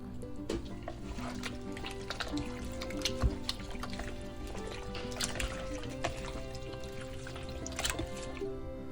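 Marinade with chopped lemongrass poured over chicken and mixed: soft wet sloshing, squelching and dripping, with small clinks of a bowl or utensil, steady and close, no talk.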